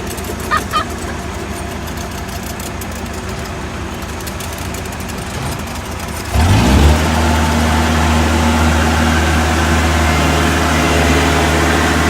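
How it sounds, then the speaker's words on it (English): A road roller engine rumbles at a construction site for a pedestrian underpass, starting up partway through as a steady low idle that grows louder and continues to the end, preceded by quieter ambient noise. "if I knew how to drive this roller, I could hop in and give these guys a hand"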